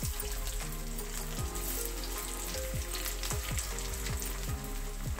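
Potatoes frying in ghee, a steady bubbling sizzle close by, with recurring low knocks and scrapes from a utensil against the pan.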